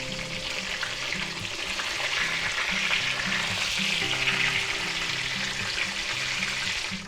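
Breaded chicken cutlets sizzle steadily in a hot pan for a chicken parmesan, a loud, even crackle of frying oil with no voices.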